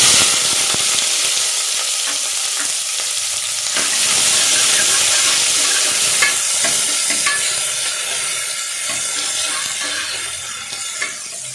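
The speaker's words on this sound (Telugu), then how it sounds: "ఆయిల్ హీట్ అయిందండి. 1 కప్పు ఆనియన్స్." Onions frying in hot oil: loud, dense, continuous sizzle with faint stirring scrapes, close up and alone without talk.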